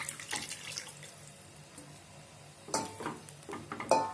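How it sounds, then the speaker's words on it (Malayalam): Tomato water being poured into a pan of rasam, a soft splashing pour with stirring noises, rising in two short louder bursts near the end over a quiet kitchen background. "ഇനി ഇതിലേക്ക് തക്കാളി ഉടച്ചെടുത്ത് വെച്ചിരിക്കുന്ന വെള്ളം ചേർത്ത് കൊടുക്കണം"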